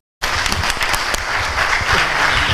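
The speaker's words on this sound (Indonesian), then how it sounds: "Tepuk tangan semua." Sudden burst of audience applause in a lecture hall on corruption, dense loud clapping that starts abruptly and carries on steadily without talk.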